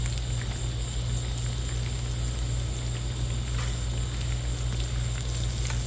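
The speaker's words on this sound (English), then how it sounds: "right away you can see right there it's frying" Barramundi frying in hot oil in a pan for tacos, a dense, even sizzle with fine crackling that holds steady throughout under a low continuous hum, with no voices.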